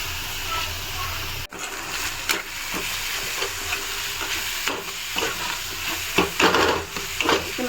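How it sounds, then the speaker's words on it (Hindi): Onions sizzle steadily in a hot pan while a spoon stirs and scrapes through them, with intermittent clatters over the continuous loud frying hiss. "अब मैं प्याज फ्राई कर रही हूँ अभी।"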